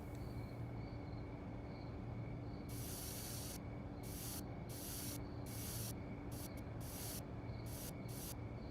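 Spray paint hisses from a can in the video game Schedule 1 as a tag is made, a series of short bursts of varying length, quiet and alone over a faint steady background hum.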